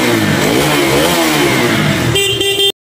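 A second-hand motorcycle at a used bike dealer in Hyderabad starts and revs, its engine note rising and falling loudly up close before cutting off abruptly.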